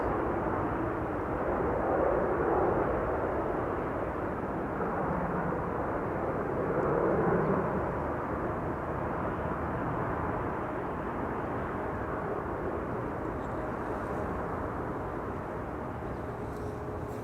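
A jet airliner passes at Schiphol Airport, a loud, steady broadband engine roar that holds for the whole stretch, swelling slightly twice as it goes by, with no voices over it.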